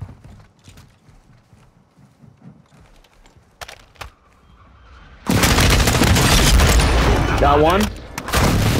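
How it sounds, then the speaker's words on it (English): Friendly airstrike explosions in the Call of Duty Warzone video game erupt into a loud, sustained barrage of booms and blasts, preceded by brief voice chat and quieter game sounds. "Friendly airstrike on the way."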